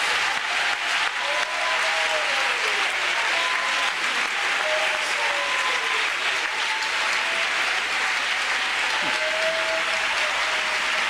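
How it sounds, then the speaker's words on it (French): A church congregation claps in sustained, dense applause that fills the room, with a sustained tonal line running beneath the clapping. "applause to Jesus Christ."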